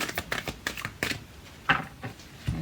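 Tarot cards are shuffled by hand in a rapid run of crisp riffling snaps and flutters, close and alone, with brief pauses between bursts.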